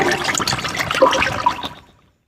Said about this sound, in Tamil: இப்படி உள்ள ஊற்றி வச்சு நல்லா இந்த மாதிரி ஒரு பெரிய பாத்திரத்தில் வச்சு நல்லா கலக்கிக்கிங்க